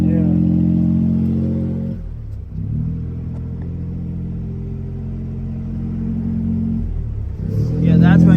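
Small Suzuki Cappuccino engine rising in a rev, dropping back to a low idle, revving again and falling once more, close and rumbling, with a voice talking over it.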